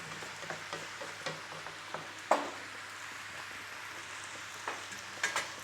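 Cherry tomatoes cook in a frying pan with chicken and potatoes, giving a quiet steady sizzle with occasional faint clinks and stirring sounds, and no voices.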